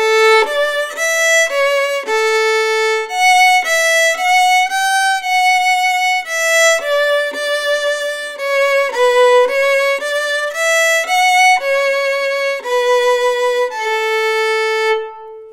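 Adeste Fideles played on solo violin from the opening, a longer melody of smoothly bowed, sustained notes rising and falling, loud and close with no speech.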